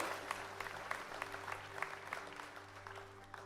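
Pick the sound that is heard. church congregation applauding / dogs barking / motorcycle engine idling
church congregation applauding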